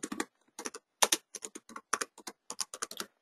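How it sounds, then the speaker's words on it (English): Close, crisp keystrokes tapped on a computer keyboard into a CRM 2013 form, coming in quick irregular bursts with short pauses between, clear against a silent background and with no one speaking. "Just going to type in some French into the local description"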